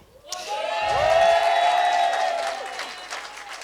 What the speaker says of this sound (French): C'est la première fois qu'on nous applaudit aussi dans une salle